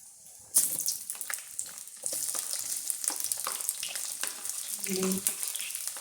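Urad dal and lentils frying in a pan for a Kerala dish, a steady close sizzle that starts abruptly and continues with light stirring scrapes throughout.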